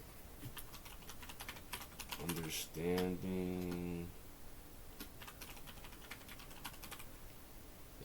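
Quiet keyboard typing, scattered clicks running through, briefly interrupted by a single spoken word in the middle before the clatter resumes faintly.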